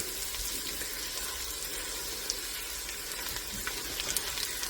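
Garlic and onions sautéing in a pan for a seafood chowder: a soft, steady sizzle with faint crackles and an occasional tiny pop, quiet and even throughout.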